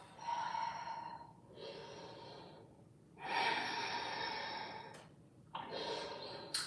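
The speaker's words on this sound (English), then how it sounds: "Take the next 5 deep breaths here." Deep breathing held in a yoga pose: four slow, audible breaths with rushing inhales and exhales, close to the mic and separated by brief quiet gaps, no talking.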